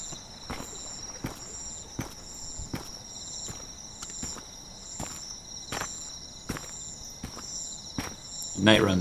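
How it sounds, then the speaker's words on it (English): Crickets chirp at night beside a lake in the Dolomites: a steady, high, continuous trill hangs in the background while footsteps on pavement tap in an even walking rhythm in the foreground. "The soft chirp of crickets nearby."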